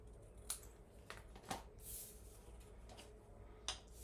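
Scissors snip through a paper strip being trimmed for a handmade card, giving a few soft, separate clicks and cuts spread over a few seconds in a quiet room.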